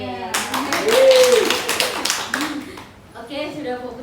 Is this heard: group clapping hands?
yes